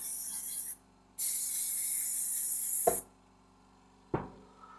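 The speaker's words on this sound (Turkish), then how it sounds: "Arkasından tekrar bakım spreyini sıkıyoruz." RifleCX CX80 gun care spray hisses from an aerosol can in two strong bursts, the second longer, with sharp clicks and knocks of handling in the pauses.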